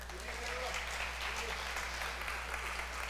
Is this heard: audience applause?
yes